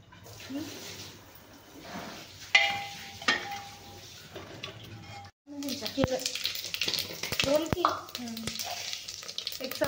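Cumin and mustard seeds sizzling and crackling in hot oil, a steady frying hiss with scattered pops and a few utensil clinks, briefly cutting out, with a voice talking over it.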